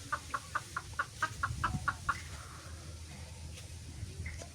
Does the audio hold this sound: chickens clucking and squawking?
yes